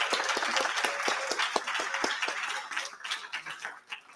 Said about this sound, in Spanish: un aplauso, sí.